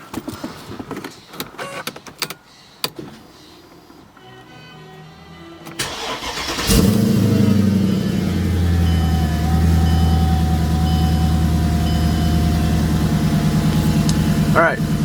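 A supercharged Mercedes CLK55 AMG with a swapped M113K engine cranks and fires after some clicks and handling noises, then settles into a loud, steady, close idle, with someone speaking briefly before startup.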